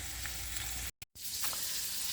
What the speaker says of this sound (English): Little kielbasa sausage coins are in the frying pan.